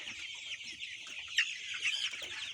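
A dense flock of 30-day-old Sonali and broiler chickens on a poultry farm keeps up a constant, crowded chorus of clucks and chirps, with no talk over it.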